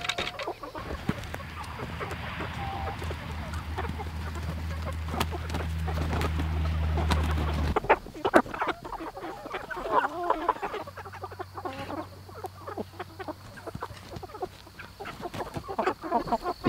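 Large chickens in a backyard chicken area cluck and murmur steadily, with occasional sharper calls, close by over outdoor background noise; no one speaks.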